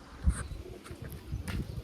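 A pigeon coos softly nearby among kept flying pigeons, a low brief call with faint rustling and distant ambient noise.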